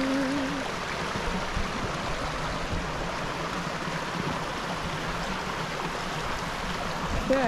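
A stream on the Appalachian Trail flows steadily with a broad, continuous rushing wash at a water crossing, close and even throughout.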